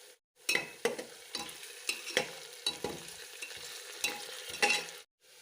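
Ginger garlic paste stir-fries in a pan for pulao: a hissing sizzle punctuated by a series of sharp, irregular spoon scrapes and taps against the pan, close and fairly loud, with a brief silence at either end.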